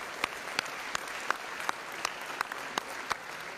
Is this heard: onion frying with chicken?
no